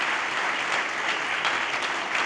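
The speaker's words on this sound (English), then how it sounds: "let's give it up for a round of applause for the Endless Games and" Steady crowd applause at an education and games conference for a games and learning lab, even and continuous across the short stretch with no voices over it.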